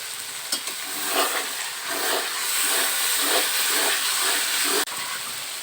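Whole garlic cloves sizzle in hot oil with a loud, steady hiss that swells in rhythmic surges as they are stirred, followed by a sharp knock near the end.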